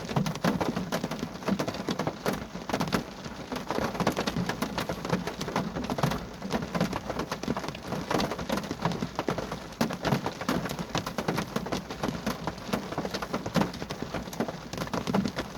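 Rain falls outside at night in a graveyard, a continuous dense patter on surfaces that stays steady and fairly loud throughout, with no voices.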